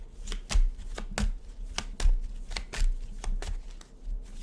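Tarot cards are shuffled by hand at close range, a quick run of crisp riffling bursts with dull taps between them, repeating steadily throughout.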